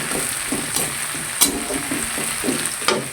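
Koi fish frying in a pan of hot oil for koi fish dopiyaji, with a steady close sizzle and crackle broken by a few sharper spits and pops.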